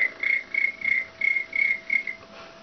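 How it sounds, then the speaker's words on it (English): A cricket chirps in steady repeated pulses, about seven short trilling bursts at an even pace, moderately loud over a faint hum. "Cricket."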